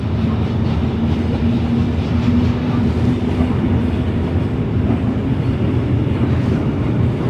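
Steady, loud rumble of the world's biggest iron ore train rolling through Mauritania, heard from on board, with a low continuous drone and a faint hum throughout and no voices.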